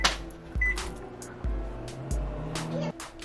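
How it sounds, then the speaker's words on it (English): A microwave oven runs while melting about two cups of marshmallows, a quiet low hum broken by several dull clunks and a brief faint beep. "Stick in the microwave. We're gonna melt it for a minute."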